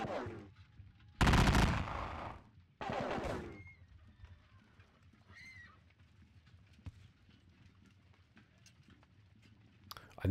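Musket volleys in a Napoleonic war video game set at Leipzig, two loud crackling bursts early on, then quieter distant pops and scattered shots over a low battlefield rumble, with no talk.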